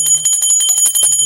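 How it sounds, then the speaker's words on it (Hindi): A small handheld puja bell rings repeatedly in a steady, rapid clanging rhythm, bright and close, with a low hum briefly present at the start and end. "घंटी,"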